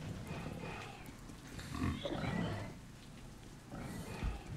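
Low snorting pig grunts in the video game Metro: Last Light, a couple of rough bursts in the middle and another near the end, heard over a steady noisy background.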